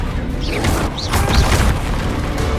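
Confringo blasting spell going off in the Hogwarts Legacy video game, a few booming bursts with crackling magical whooshes over a steady rumble of battle noise, loud and close.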